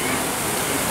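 A running water fountain on the Yalta embankment gives a steady, close, full-band rush of splashing water that stays constant and loud from start to finish.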